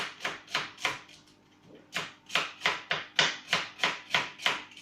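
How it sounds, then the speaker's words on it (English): A knife chops spinach finely for soup in close, crisp strokes: a quick run of cuts, a short pause, then a longer steady series of evenly spaced chops, with no voices. "Trying to cut as fine as possible. There you go. Chop it up."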